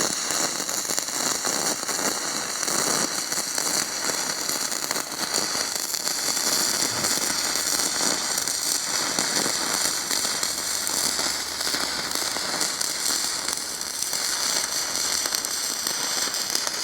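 Stick welding a new leading edge onto an old skid steer bucket, a steady dense crackle and sizzle of the arc running continuously and fairly loud throughout, with no talking.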